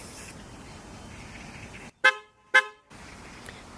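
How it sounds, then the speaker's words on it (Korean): Tesla Model S horn triggered by a Siri voice command, two short, loud honks about half a second apart over quiet background hum. "시리아 빵빵."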